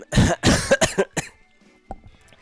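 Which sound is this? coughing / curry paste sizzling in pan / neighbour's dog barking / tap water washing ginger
coughing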